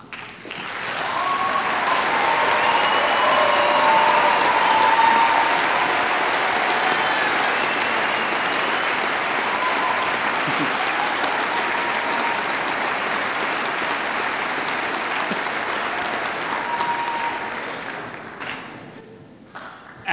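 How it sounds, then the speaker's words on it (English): A graduation ceremony crowd applauds honors seniors as they stand, dense sustained clapping filling a large hall, swelling quickly and holding steady before fading out near the end. "applause as soon as they stand."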